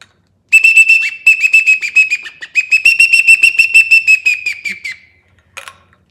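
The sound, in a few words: duck call whistle for diving ducks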